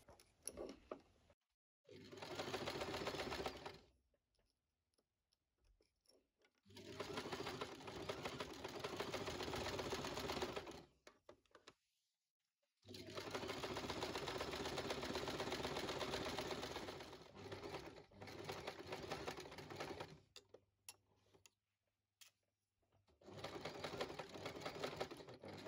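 A sewing machine runs stitching the hem of a lace dress, in long steady whirring bursts separated by brief stops, fairly faint and steady with no voices.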